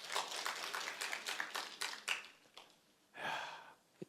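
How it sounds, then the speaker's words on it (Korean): A church audience claps in a burst of clustered hand claps, lively and fairly close, fading after about two seconds before a breathy exhale and a final faint clap. "박수 한번 쳐줘야 돼."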